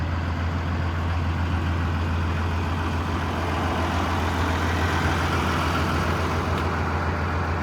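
A truck hauling a load rolls down the road, its engine holding a steady, loud, continuous drone with road rumble throughout and no talk.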